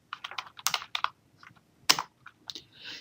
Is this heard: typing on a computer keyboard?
yes